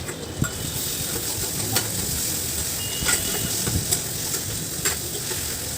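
Prawns sizzle and fry in a pan while being stirred for a curry, a steady bright hiss of hot oil broken by clinks and scrapes of the spoon against the pan.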